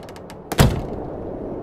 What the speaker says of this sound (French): Et voilà qu'il ferme la porte.